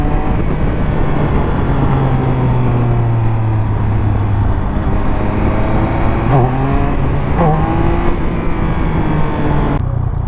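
Triumph Speed Triple 1200 motorcycle engine under way, a loud continuous drone with rising and falling pitch as the rider shifts and throttles, wind buffeting throughout and no talk.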